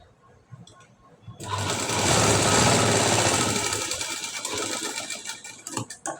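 Sewing machine stitching a joint in blouse cloth for a high-neck blouse, running loud and steady for several seconds after a quiet start, then trailing off into short bursts at the end.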